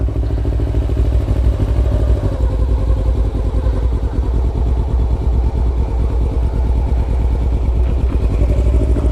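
A motorcycle engine runs loud and close during a riding lesson, its steady low rumble and rapid mechanical clatter continuing throughout without a break.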